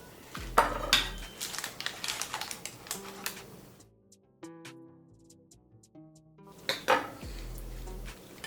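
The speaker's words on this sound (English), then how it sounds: "We are going to cut a nice piece of our pie." Pie being cut and plated, with clattering of a knife, server and plate in a series of close clinks and scrapes, a quieter pause in the middle, then more clatter.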